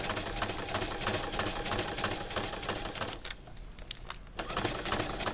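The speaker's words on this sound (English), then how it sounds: "Sew it on the same way, same zigzag stitch." A sewing machine runs a zigzag stitch through joined Capri Sun juice pouches, making a close, rapid mechanical chatter with a brief pause near the middle before resuming, with no one talking.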